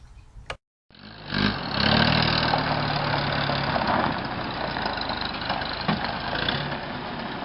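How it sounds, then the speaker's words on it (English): A 1943 Willys MB World War II Jeep, a February 1945 government rebuild, at a tree farm in McMinnville, Tennessee, its engine catching after a brief silence and settling into a steady, loud, close idle. "Here's a World War II Jeep."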